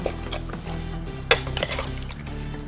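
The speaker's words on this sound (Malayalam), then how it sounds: "ഞാനിപ്പോൾ കൈ കൊണ്ടാണ് ഇളക്കുന്നത്." Chicken being mixed with coconut oil by hand makes close, wet squelching and slapping sounds, with a sharp clack partway through.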